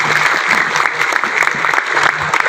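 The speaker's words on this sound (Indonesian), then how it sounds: "tepuk tangan dulu." A crowd at a village farmers' meeting claps, giving steady, dense applause that is close and loud throughout.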